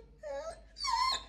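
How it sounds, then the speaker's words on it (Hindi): A dog whines and cries in two drawn-out, wavering whimpers from somewhere behind, fairly close and moderately loud, with no talk over it. "वो पीछे से रो रहा है, उसकी आवाज आ रही है"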